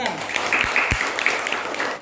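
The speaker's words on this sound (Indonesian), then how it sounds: "Tepuk tangan." Classroom applause as students clap after a group presentation on measuring waist circumference, a short burst of mixed clapping with children's voices and a couple of low thumps mixed in.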